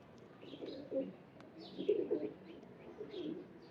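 Rampuri and Ferozpuri pigeons cooing softly in low repeated bursts, several coos spread across a few seconds, close but quiet, with faint higher chirps above and no talk.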